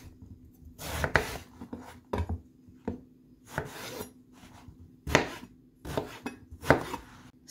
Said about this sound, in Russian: Разрезаем на крупные кубики.